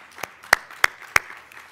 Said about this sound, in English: let's give a round of applause for Lisa and all of them